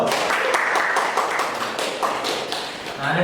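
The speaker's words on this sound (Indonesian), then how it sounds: "Oke, tepuk tangan dong." A seminar audience claps together in a steady, dense patter of hand claps that fills the room at moderate loudness without pause.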